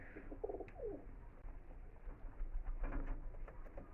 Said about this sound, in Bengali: এই দুটোই নর পায়রা